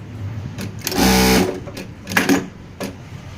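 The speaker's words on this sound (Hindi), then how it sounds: "अभी मशीन हम चला के देखेंगे कि काउंटर चल रहा है कि नहीं चल रहा।" A Jack A5E industrial sewing machine runs in a short burst when its pedal is pressed, giving a loud, close whirring hum, followed by a few brief mechanical clicks and thumps from the trimmer and mechanism.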